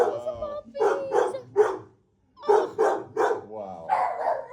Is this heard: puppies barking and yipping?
yes